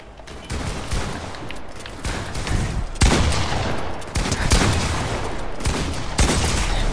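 Rapid gunfire in the video game Fortnite, with repeated sharp bursts and volleys that come in quick succession and stay loud and close throughout, with no talking.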